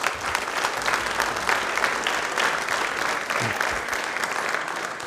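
An audience at an Ambedkar Jayanti programme breaks into loud, sustained applause, a dense wash of many hands clapping that stays fairly even for several seconds.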